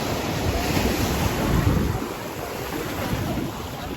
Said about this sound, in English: These waves are too choppy